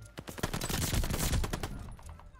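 Rapid bursts of gunfire from the Call of Duty: Vanguard video game, a loud dense fusillade of overlapping shots that thins out toward the end.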